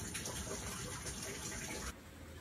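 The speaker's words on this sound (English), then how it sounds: "That is all the extra rainwater going down the storm drain" Rainwater gushes steadily down a storm drain, a close, continuous rushing splash that drops to a softer trickle near the end.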